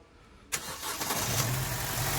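An Opel Astra 1.4 turbo with a stalling fault starts up: a brief crank, then the engine catches and settles into a steady, close, loud idle.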